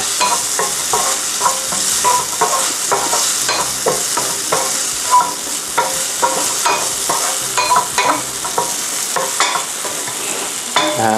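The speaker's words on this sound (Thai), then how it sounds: "ตามด้วยเต้าหู้ที่ยีเอาไว้เมื่อกี้นะครับ ลงไปผัดเลย" Mashed tofu is stir-fried in a pan with a loud, steady sizzle and rapid rhythmic scraping and clacking of a spatula, close up for over ten seconds without any talking.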